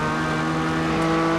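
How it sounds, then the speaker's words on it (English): A race car engine at the 2016 6 Hours of Nurburgring howls loudly and continuously, with a dense, steady high-revving tone and no speech. "That sounds like a race car, doesn't it?"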